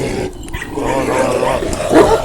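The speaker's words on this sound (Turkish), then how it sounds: "İçeride bir köpeğimiz daha var." A Kangal dog of the Meydancı Tosun line barks and growls close by at a rural kennel, with rough, loud vocal bursts mixed with people talking nearby.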